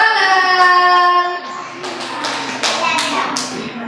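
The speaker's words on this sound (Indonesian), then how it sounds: "Tepuk tangan." Young children at a preschool clap their hands, a brief scattered burst of claps following a lively adult voice, with the clapping fairly close and uneven in rhythm.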